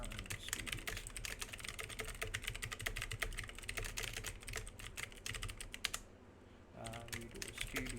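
Fast, continuous typing of source code on a computer keyboard while building a Hindi-language compiler, a dense run of close clacking keystrokes with a short pause before the rapid typing resumes.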